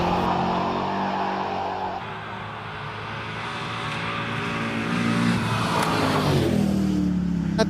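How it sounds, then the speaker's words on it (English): A Morris Minor van with a slipping clutch drives along at a car gathering, its engine droning steadily near the microphone and rising in pitch toward the end as it revs. "Morgan at the wheel of the lovely little Morris Minor van."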